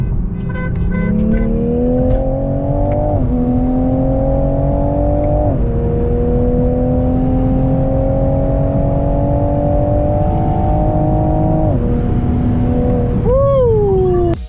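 Toyota Supra accelerating hard in a race against a Stage 2 BMW M2, its engine droning loudly from inside the cabin and climbing through several gear shifts, each marked by a short drop in pitch before the rising pull resumes.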